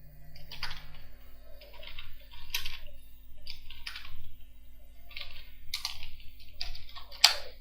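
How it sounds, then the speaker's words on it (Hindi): Typing on a computer keyboard into an Excel cell: irregular, light clicking keystrokes in small clusters, close and fairly quiet over a low steady hum, with no speech. "मैं हेडिंग टाइप कर रहा हूँ एक,"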